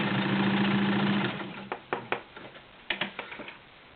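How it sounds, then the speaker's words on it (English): A vintage 1960s Kenmore 1301 sewing machine stitching through eight layers of denim on a tabletop, a steady close mechanical whir that stops after about a second, followed by scattered sharp knocks and clicks. "I'm sewing right on the tabletop, and it's doing just fine, no walking across the table"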